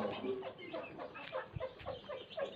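Hens and chicks pecking at scattered grain on a farm, with soft clucks and short chirps close by, a quiet busy chatter with a low thump partway through.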